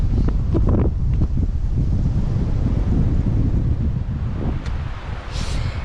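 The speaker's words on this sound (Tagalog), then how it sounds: "Sobrang lakas ng hangin." Strong, cold wind outdoors near Calgary buffets the microphone in loud, continuous low rumbling gusts that barely let up.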